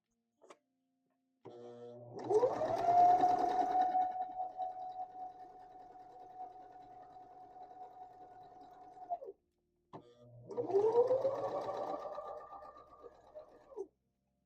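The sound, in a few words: sewing machine stitching a zigzag on stretch fabric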